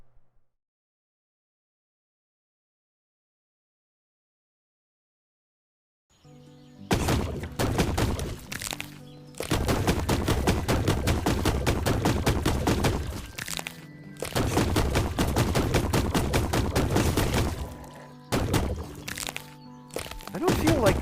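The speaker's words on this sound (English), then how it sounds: "I feel like the noise of the gunshots was drowning me out." Rapid gunfire bursts loudly in the PC game Black Skylands, sharp cracking volleys arriving in dense clusters after a silent opening, with a voice talking over them.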